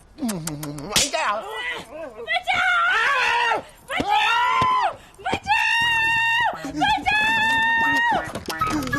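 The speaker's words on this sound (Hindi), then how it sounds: "चिल्ला क्यों रही है?" A woman screams loudly and repeatedly in an indoor comedy scene, shrill sustained cries broken by short gaps, with sharp slap-like hits and a voice briefly in between.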